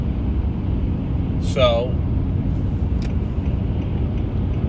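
A car on the road gives a steady low rumble of engine and road noise from inside the cabin, with a brief spoken word partway through.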